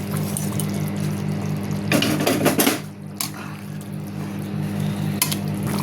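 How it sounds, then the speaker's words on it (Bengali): Fried eggplant is tipped into a pot of simmering potato curry, with metal clattering and scraping against the pot, a louder burst of pouring and bubbling midway, then quieter cooking sounds. "এবার বেগুনটা ভাজা ছিল ঢেলে দেব।"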